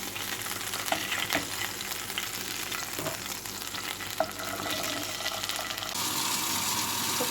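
Food fries in a pan with a steady, close sizzle, punctuated by a few light clinks and scrapes of stirring, growing slightly louder near the end.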